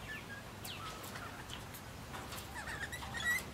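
Birds calling in a garden, pigeons cooing alongside scattered chirps and tweets, moderately close over a steady low outdoor background, with no talk.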